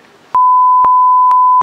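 A censorship bleep covering speech in a Japanese interview: one loud, steady pure tone that cuts in abruptly, holds just over a second, then stops as quiet talk resumes.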